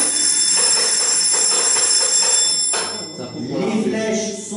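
A railway signal bell rings continuously for a few seconds with a bright, sustained tone, then stops, leaving quiet room noise and faint voices.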